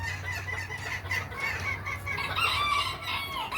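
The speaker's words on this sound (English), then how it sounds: "Hello, Mr. Rooster." A rooster clucking nearby, a run of throaty, warbling calls that rise and swell toward the end over a low steady hum, with no speech.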